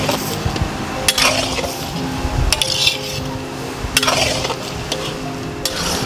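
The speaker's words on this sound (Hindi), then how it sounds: "इसको हम मिक्स करेंगे ताकि ये नीचे लगे नहीं" Lamb meat with its fat is stirred in a karahi for a Shinwari lamb karahi, producing a low frying hiss punctuated by repeated loud metallic scrapes and clanks of the spoon against the pan.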